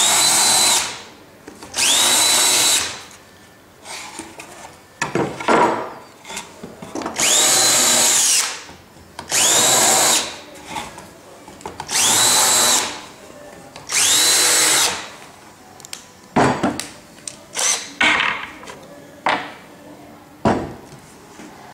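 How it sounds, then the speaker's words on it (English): A power drill with a countersink bit bores into a wooden mitre box, giving loud, close whining bursts of about two seconds each, repeated several times with short handling clatter between them. "get your countersink, and put a countersink in the side with the line"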